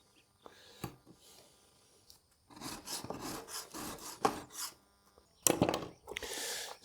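A Japanese garden tool is sharpened on a diamond sharpening stone in irregular rasping strokes, some short and some sustained, close and moderately loud with brief pauses between passes.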